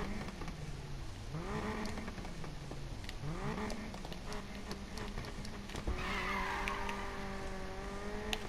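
Mercedes-AMG A45 engine in the Need for Speed Payback racing game, revving up and down in repeated swells with gear shifts, a steady loud drone throughout and brief tire noise, with no talking.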